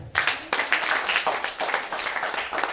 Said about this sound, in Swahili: Mpe Yesu makofi tena.